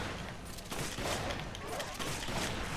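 Rapid gunfire in Resident Evil 5 on Professional Mode, repeated bursts of shots over dense game noise, fairly loud and sustained.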